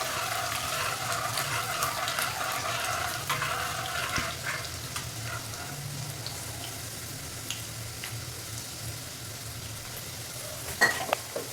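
Garlic sizzles steadily in hot oil in a pan for an okra vegetable dish, a continuous close frying crackle with a few scattered clinks and one sharper knock near the end.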